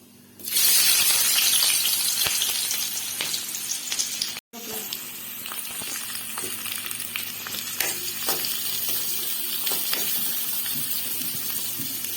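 Onions hit hot oil with popping mustard seeds in a pan, a loud sizzle that bursts in and settles into steady frying crackle with occasional stirring, briefly cut near the middle.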